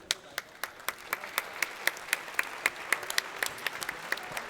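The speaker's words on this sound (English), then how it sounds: "a big round of applause" A steady patter of separate, sharp claps from a modest crowd at a sim racing expo podium ceremony, evenly spaced and continuing throughout, heard at a moderate distance.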